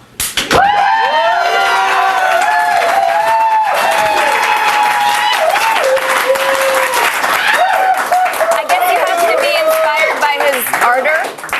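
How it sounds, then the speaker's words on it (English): A studio audience on a TV comedy show applauds and cheers steadily after a performance, dense clapping mixed with whoops and shouts that runs loud throughout. "They'll clap for anything."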